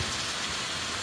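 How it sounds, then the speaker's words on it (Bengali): Water hissing and sizzling as it hits a hot pan of taro stolons cooked down with fried dried fish, a steady broadband rush lasting about a second with no talk. "জল দিয়ে দিব।"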